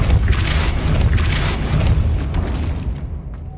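In Hogwarts Legacy, a Depulso spell blasts out with a heavy booming burst and rumbling impact that lingers for a few seconds before fading.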